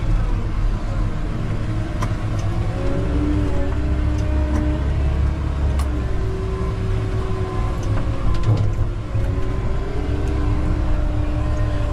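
Caterpillar 908M compact wheel loader running steadily up close, its engine drone continuous with occasional metallic scrapes and knocks as the bucket drags along the ground, no talk.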